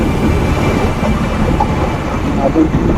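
A train rumbles past nearby, a loud continuous roar of wheels and cars on the rails, with faint voices under the noise.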